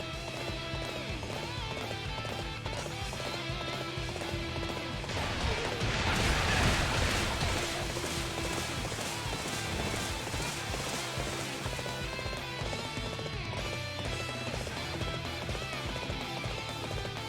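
Horse hooves galloping in the Dynasty Warriors 8 battle at Hefei, a steady clip-clop run under dense in-game battle music and clashing effects, swelling briefly in the middle.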